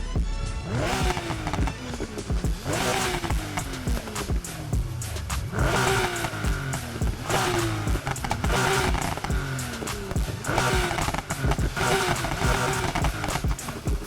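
A tuned Nissan Skyline 2000 GT-R race build in the video game Need for Speed Heat revs repeatedly, each pull rising in pitch then dropping with popping exhaust crackle, loud and continuous with no talking.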